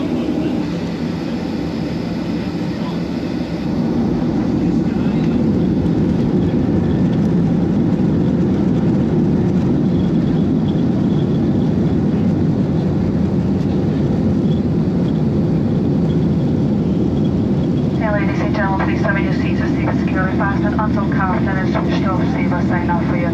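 Steady low cabin roar of an airliner's engines on a short flight out of Belfast, continuous and loud throughout, with a brief rattling, clicking texture joining near the end.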